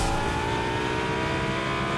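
A Lamborghini in Fortnite runs with a steady, loud, close engine drone that holds an even pitch throughout without any talk.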